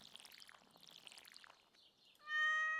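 A pet cat in the Stardew Valley Expanded video game gives a single bright, drawn-out meow at the end, following a stretch of soft, twittering game sounds.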